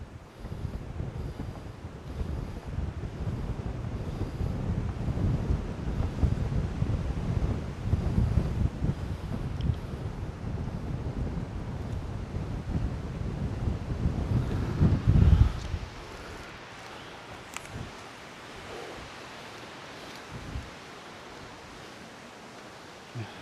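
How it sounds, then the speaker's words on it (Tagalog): Strong wind buffets the microphone with a rumbling roar for about fifteen seconds in a forest in Magallanes, Cavite, then drops to a softer, steady breeze. "Sarap ng simoy ng hangin."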